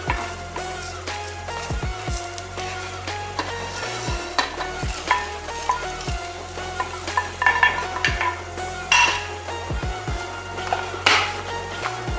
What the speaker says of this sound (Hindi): मसाले जो है पैन में डाल दिए हैं, तो अब इन्हें अच्छी तरह से भून लेते हैं।